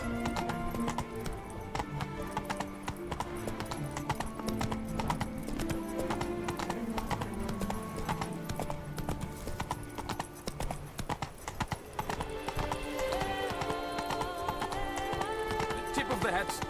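A horse gallops with rhythmic clip-clop hoofbeats in The Witcher 3, joined by a whinny and layered over dense game music and ambience.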